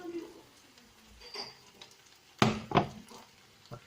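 Raw leeks dropped into a cooking pot of already-cooked carrots for a leek and carrot fondue, giving two short, sharp thumps and rustles close by with a faint sizzle in a quiet kitchen.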